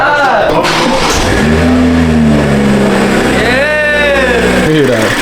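A BMW M440i with aftermarket intakes cranks and fires up, then revs loudly and close with a deep rising and falling roar, while people shout and talk over it.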